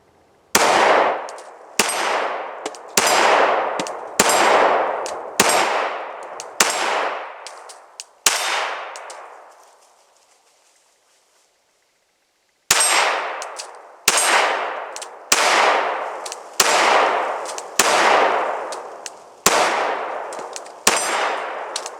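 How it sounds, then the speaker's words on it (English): A steady series of outdoor gunshots, each one ringing off a small steel plate target with a sharp metallic clang. The shots come at slow, regular intervals, with a pause of several seconds partway through. "Just some slow fire over there at that little steel plate"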